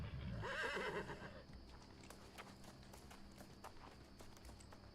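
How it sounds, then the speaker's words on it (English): A horse whinnies loudly at the start in the video game New World, followed by a steady clip-clop of hooves and a faint background hum. "Knew I heard a horse, and there it is."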